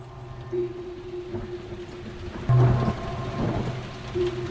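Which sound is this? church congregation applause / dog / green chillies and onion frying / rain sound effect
rain sound effect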